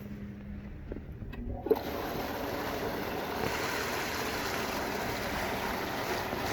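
A pump in an 8 ft diameter, 700-gallon stock tank pool switches on after a short quiet start and keeps running, a steady broadband rush of circulating, splashing water holding close and even to the end.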